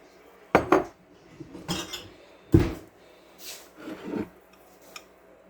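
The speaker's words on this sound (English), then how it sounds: "I'm gonna go ahead and get another one out" A glass jar for sourdough starter is taken out and handled, giving several close clinks and knocks of glass against hard surfaces with quiet gaps between them.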